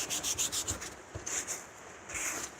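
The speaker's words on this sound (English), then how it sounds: "Got the wet sanding, man." Short rhythmic scrubbing strokes of wet sanding on car paint rasp against the surface, close up, in quick bursts with brief pauses between them.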